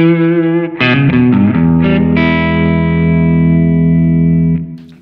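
Electric guitar through a Decibelics Reverend XX low-gain overdrive pedal with its clipping switch engaged: a few quick picked notes, then a thick, driven chord that rings loud and sustained for several seconds before cutting off.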